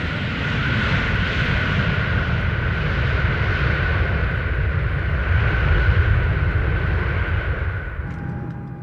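A Boeing airplane in flight gives a loud, steady engine roar with a constant whining tone above a heavy low rumble, sustained throughout and easing slightly at the end, with no talking.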